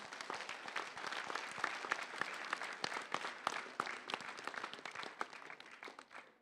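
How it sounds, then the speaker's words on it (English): Audience applause at an education forum for the panelists and moderator, a steady round of many hands clapping, fairly distant, tapering off slightly toward the end. "let us give the panelists and moderator a big round of applause"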